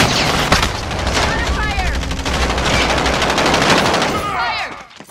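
Rapid automatic gunfire in a Modern Warfare match, dense bursts of shots and booms filling the whole moment at close range, with game voice chatter mixed underneath.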